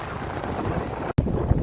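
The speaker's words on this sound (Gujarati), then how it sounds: "ધાબા ઉપર ઊભું નથી રહેવાતું, એટલો પવન ફૂંકાય છે" Steady, roaring storm wind on a rooftop buffets the microphone with heavy low rumble, broken by one brief dropout, then continues gusting.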